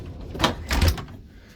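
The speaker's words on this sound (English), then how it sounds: "The bedroom has its own pocket door to close off from the rest of the motorhome." A pocket door in the bedroom of a 2011 Winnebago motorhome slides shut, giving two soft thumping rolls close by that fade into quiet.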